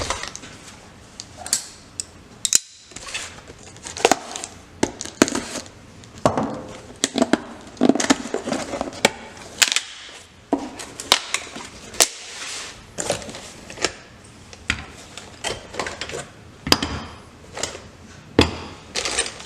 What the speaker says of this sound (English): we'll do a real quick opening of the box to see everything that's inside